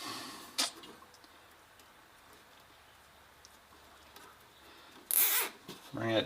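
A plastic zip tie is ratcheted tight around wiring during fuel pump and coil work on a Mazda RX-8: one short zipping burst early on, then a longer, louder ratcheting pull near the end, followed by rustling.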